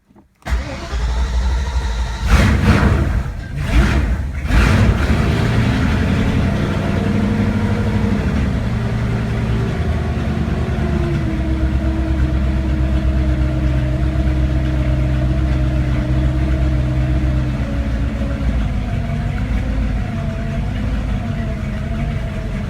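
A collector car engine cranking and catching on a start button, a few rapid churning bursts before settling into a steady, low, rumbling idle that holds close and even for the rest of the run.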